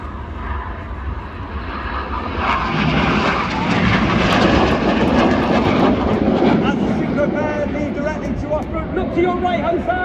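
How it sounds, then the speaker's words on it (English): Red Arrows display jet flying past at the Ayr airshow in Scotland. A broad engine roar swells after a couple of seconds and stays loud before easing slightly, while a commentator talks over the crowd. "Look to your right hand side, red 8 coming in, 450 miles per hour with a blue smoke in trail"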